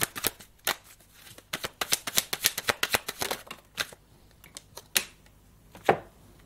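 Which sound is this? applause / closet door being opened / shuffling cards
shuffling cards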